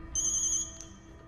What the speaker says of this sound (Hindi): मुत्तू का फोन है।